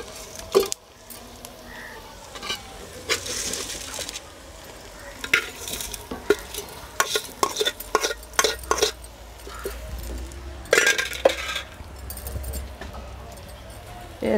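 Fried onions and oil stirred together in a pan for a ragandi fish curry: intermittent scrapes and knocks of a spoon against the pan over a low sizzle and hum, close by.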